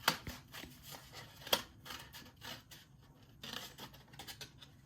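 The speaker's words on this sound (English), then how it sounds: "So now I'll follow my line with my scissors." Scissors snip through a paper plate during a children's craft, giving a string of short crisp cuts and scratchy crunches, with two sharper snaps near the start, close and fairly quiet.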